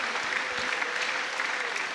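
Crowd applause at a combat sports event, steady dense clapping from a large audience with cheering mixed in, filling the whole moment without pause.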